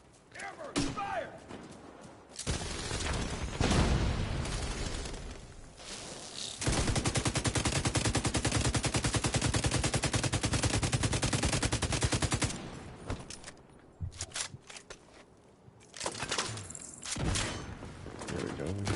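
Loud automatic gunfire from The Division 2, played on PS5, erupts in long sustained bursts with sharp shots and thuds, broken by brief quieter gaps where someone talks.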